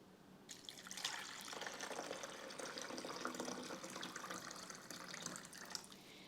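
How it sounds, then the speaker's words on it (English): Cold water pours steadily into a Vitamix blender jar over ice, a close, continuous splashing stream that starts abruptly and runs for several seconds at low volume, with no talking. "Next, I'm going to add 400 milliliters of cold water."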